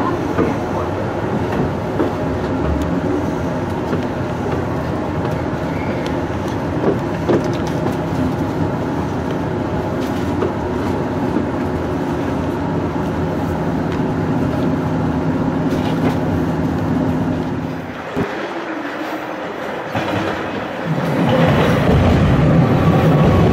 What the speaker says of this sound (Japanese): 2番線に列車が到着いたします。